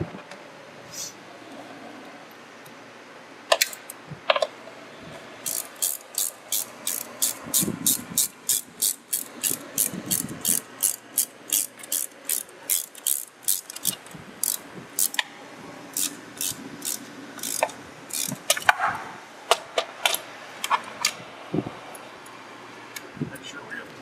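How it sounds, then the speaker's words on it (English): A worker tightens hose clamps during a Phoenix fuel converter install, giving a long run of quick, evenly spaced ratcheting clicks, close and crisp, with scattered handling noises between bursts. "Set and tighten the hose clamps."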